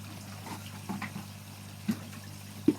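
Water from a main koi pond pours into a container holding salt, a steady low wash of running water broken by a couple of brief splashing knocks.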